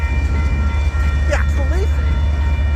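Union Pacific locomotive 5833 hauling a freight train past in St. Paul, a loud steady low rumble with faint wheel noise and a brief tonal squeal midway.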